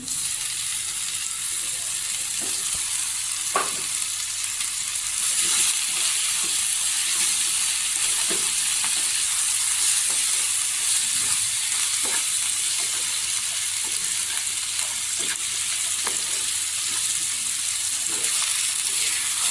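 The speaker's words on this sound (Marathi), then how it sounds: "पूर्णपणे तेलावर परतून घ्यायचं" Potato pieces frying in oil for a spicy Maharashtrian potato bhaji, giving a steady, dense sizzle throughout, broken by occasional soft scrapes and clicks of stirring. The sound is close and unbroken, and no voice is heard.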